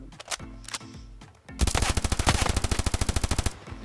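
Video game gunfire comes as a few spaced single shots followed by a long, loud, rapid automatic burst with an even rhythm, close and dominant.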